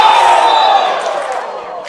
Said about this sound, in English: Big reaction from the crowd